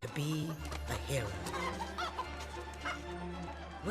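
Chickens clucking in the video game Fable 3: repeated clucks and squawks layered over a steady low hum and background game sounds, with talking running underneath.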